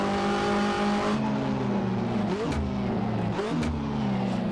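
Ford Sierra and other 1985–1992 Australian Touring Car Championship race cars roar in the Assetto Corsa sim racing game, with one engine revving hard and loud, rising through quick gear changes, alongside steady engine drone and no talking.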